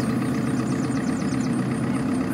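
A car engine in the game Unturned gives a constant mid-pitched drone throughout, steady and close, with a faint wavering whine riding above it.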